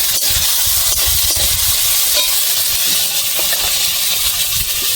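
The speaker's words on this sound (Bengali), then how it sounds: "পেঁয়াজটা অল্প ভাজা হয়েছে, টমেটোটা দিয়ে দিচ্ছি।" Chopped tomato dropped into a pan of lightly fried onions for a Bengali banana-blossom and prawn curry, giving a steady close hiss of sizzling with a few scraping stirs throughout.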